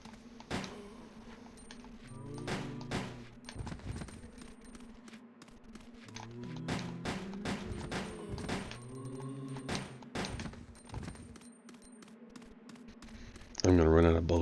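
Gunfire in Resident Evil: Code Veronica X, with scattered sharp shots and thuds spread through the stretch under frequent talking, moderately loud and fairly close.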